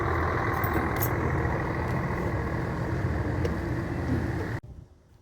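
A bus engine idles and rumbles loudly up close in a steady, broadband roar, then cuts off abruptly near the end, leaving quieter background.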